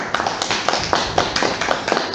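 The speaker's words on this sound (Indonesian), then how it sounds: "Kita aplaus dulu" Applause from the audience at an Indonesian provincial government procurement office event, welcoming a guest speaker. A continuous patter of many hands clapping, fairly close, dense and steady, with no talk over it.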